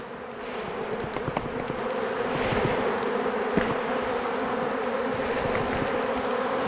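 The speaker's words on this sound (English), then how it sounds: "give that a little bit of a shake, get any bees off that" A dense, steady hum of honeybees swarms around a beehive as the frames are shaken to clear them, loud and close throughout, with occasional knocks and bumps and no talk.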